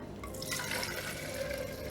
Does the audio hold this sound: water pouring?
yes